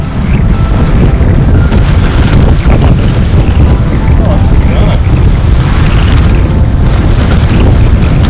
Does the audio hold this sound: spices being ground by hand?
no